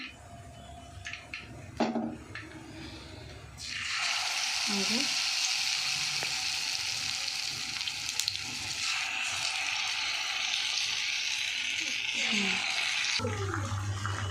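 Pieces of lotte fish hit hot oil in a pan with a sudden loud, dense sizzle that holds steady for about nine seconds before cutting off, after a quieter stretch of kitchen clatter.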